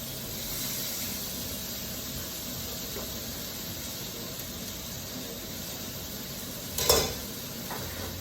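A pork chop sizzles steadily on a hot grill, a constant close hiss of frying fat with a short sharp flare of spitting near the end.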